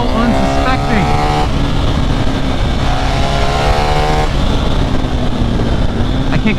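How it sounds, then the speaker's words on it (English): A 2024 BMW R 1300 GS motorcycle engine howls at full throttle, loud and close, its pitch climbing steadily through the gears with brief dips at each shift over steady wind roar. "Oh man, topping this thing out."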